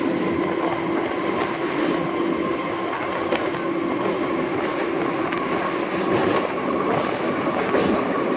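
A passenger train rolls across the Narghat rail bridge on the Howrah–Digha EMU route, giving a loud, steady rumble with rhythmic wheel clatter that holds on without a break and no voices.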